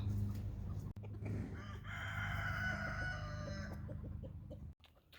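A white leghorn rooster gives a long, loud crow close by after a brief burst of clucking, the call sustained for about three seconds before ending in a sudden quiet.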